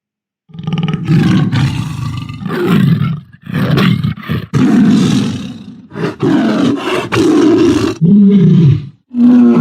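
A jaguar's deep, rough roar repeated in several long rumbling bursts with brief gaps, loud and close, no talking.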